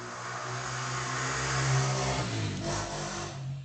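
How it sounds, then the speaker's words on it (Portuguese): A motorcycle passes by outside, its engine rising to a peak midway and then fading away, with no talk over it. "Passou uma moto aqui agora"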